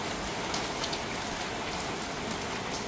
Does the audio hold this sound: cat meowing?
no